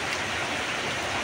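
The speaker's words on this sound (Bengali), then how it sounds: "দেখো কিরম বৃষ্টি শুরু হয়ে গেছে" Steady rain pours outside a home during a monsoon downpour, a dense even hiss of drops with no pauses, fairly loud and close, with no voices over it.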